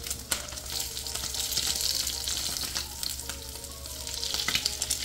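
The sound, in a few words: food frying in hot oil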